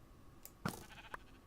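A sheep in the video game Minecraft, Project Ozone Lite modpack, gives a brief, quiet bleat amid faint game ambience and a couple of soft clicks.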